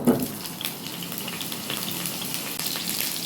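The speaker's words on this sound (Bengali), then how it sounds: "আলুতে সামান্য একটু নুন দিয়ে ভেজে উঠিয়ে রাখবো।" Potato pieces with a little salt frying in hot oil in a Bengali home kitchen, a continuous soft sizzle with a brief louder spit at the start, close and steady, with no talking.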